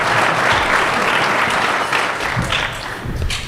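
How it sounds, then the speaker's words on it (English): A luncheon crowd at a sponsor presentation applauds for Ken and the team, with loud, sustained clapping that tapers a little toward the end, and no talk over it. "round of applause for Ken and the team, the whole team"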